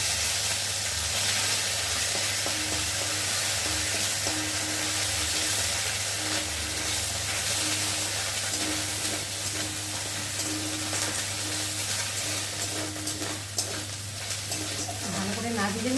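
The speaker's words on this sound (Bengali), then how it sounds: "ভেজে নেব তেলের মধ্যে।" Ginger and cumin fry in hot oil with a steady, hissing sizzle throughout, close up, with occasional stirring scrapes and a low background hum.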